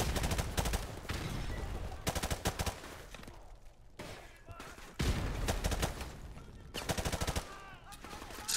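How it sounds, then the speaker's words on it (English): Gunfire in the Call of Duty 4: Modern Warfare campaign, rapid automatic bursts and repeated shots crackling loudly in several volleys with short lulls between them. "Oh, I can shoot through the tables."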